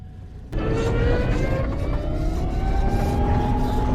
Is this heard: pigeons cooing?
no